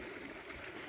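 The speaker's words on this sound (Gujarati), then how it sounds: "પાણી હાલે છે" Water running through a farm irrigation channel in a cumin field, a steady broadband rushing flow that stays continuous and fairly close for a brief moment, with no speech.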